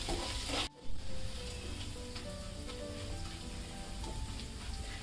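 Rice fries in ghee with a steady, close sizzling hiss that briefly drops out once, then resumes evenly with a few soft stirring sounds.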